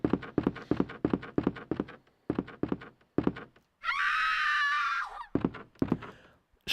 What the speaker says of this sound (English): Stock scream.